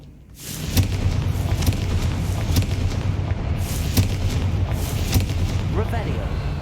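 Confringo spell explosion in Hogwarts Legacy, a rumbling blast swelling in at the start followed by a sustained booming roar with sharp cracks, over background game sound.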